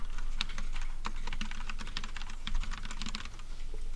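Steady, fast typing of code on a computer keyboard with dense, close key clicks that run continuously against a soft background hiss, with no talk.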